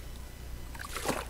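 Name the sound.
water splashing sound effect in an audiobook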